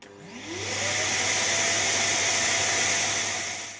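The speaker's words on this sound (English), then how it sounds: "I will use a 1000 watts Care Hair vacuum cleaner." A 1000-watt vacuum cleaner motor whines up to speed within the first second, then runs at a steady, loud roar with a constant hum underneath.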